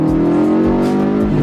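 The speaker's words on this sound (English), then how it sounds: "This car feels so fast." A Subaru STI accelerates hard, its engine note loud and close as the revs climb steadily, with brief pops and a rising whine layered over the roar and no talking.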